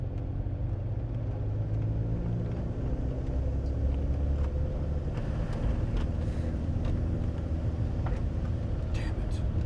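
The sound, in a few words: car engine driving in second gear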